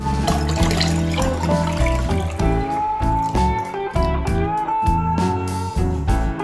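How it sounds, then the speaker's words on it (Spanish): Water pours steadily into a container, topping up to one litre for an oat flan, a continuous splashing fill with a rising tone, over background music. "le voy a añadir agua hasta completar el litro"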